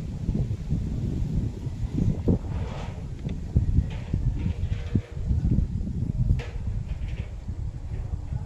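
Gusty wind after a typhoon buffets the microphone in low rumbling bursts, rising and falling irregularly, with faint rustling and knocks in the background and no voices.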